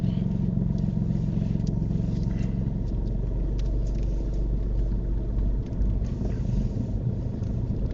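Car interior during a UK mock driving test: a steady low engine rumble and road noise as the car pulls away, building slightly and continuing evenly without talk.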